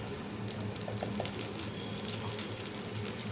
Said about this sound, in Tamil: இப்போ இதை நல்லா வதக்கி விட்டுருங்க